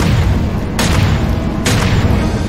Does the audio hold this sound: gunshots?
yes